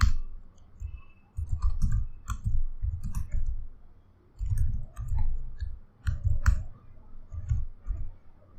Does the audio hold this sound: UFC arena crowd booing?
no